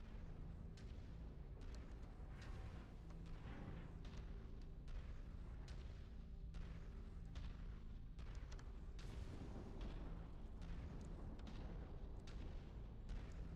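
Heavy artillery pieces fire repeatedly in a war video game, a continuous rumbling barrage of deep booms and blasts layered over one another, loud and dense with no clear pauses.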